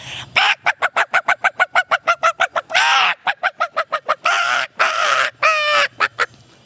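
A person vocally imitates a hen, producing a fast, rhythmic run of clucks that swells into drawn-out squawking calls, close and loud, with no talking over it.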